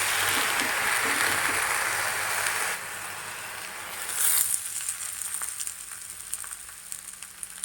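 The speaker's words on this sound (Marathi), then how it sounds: "तव्यामध्ये थोडंसं तेल टाकूया आपण" Green moong thalipeeth frying in a little oil on a hot griddle, with a close, steady sizzle that drops slightly in level partway through and continues with faint crackles.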